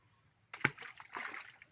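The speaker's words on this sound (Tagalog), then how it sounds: "bagsakan natin ang bato." Stone dropped into a water-filled hole in a small creek, landing with one sharp splash and then a short slosh and trickle of water, faint and close.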